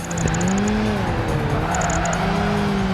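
Race cars in Project Gotham Racing 2, a street racer set in international locales, roar steadily with engine pitch rising and falling through gear changes, with brief high squeals along the way.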